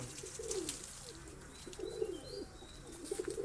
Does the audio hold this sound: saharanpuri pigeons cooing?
yes